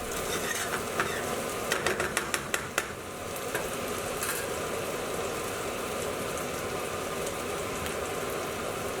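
Beef dopiaza frying in a pan is stirred around, giving a steady broadband sizzle with a cluster of sharp scraping clicks early on, then an even hiss that settles once the stirring stops. No one talks.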